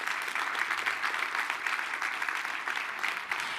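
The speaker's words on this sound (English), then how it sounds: "can I ask for a big round of applause for everyone?" An event audience claps for the organising team at a campus gathering, steady moderate applause from a sizable crowd, fairly distant and even throughout.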